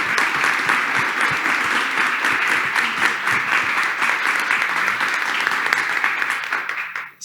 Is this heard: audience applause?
yes